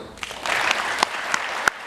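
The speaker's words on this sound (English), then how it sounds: "if you have not seen it, clap politely" An audience at the TCM Classic Film Festival gives brief, polite applause: a soft wash of clapping with a few sharp, distinct claps near the end.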